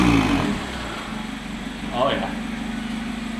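A Mazda Miata with a newly installed exhaust idles with a deep, loud burble and gives one short rev partway through, while a person speaks briefly over it.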